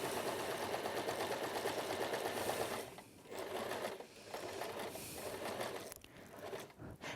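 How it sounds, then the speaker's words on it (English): A sewing machine running a basic straight seam at a right angle, with a steady close mechanical whir that briefly pauses and restarts several times, heard alone without talk. "So I'm sewing at a right angle at the moment. I'm going to continue sewing."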